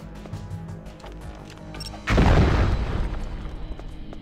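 In Metal Gear Solid: The Twin Snakes, plastic explosive goes off as one sudden, loud boom that cuts through quieter game music and then rumbles and crackles as it fades over a couple of seconds.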